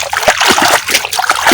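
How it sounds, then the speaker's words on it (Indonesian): Hands stir floating azolla through water in a tarp pond, close splashing and sloshing in quick repeated strokes for a moment. "Kita aduk dulu azulannya ya, ini biar merata ya."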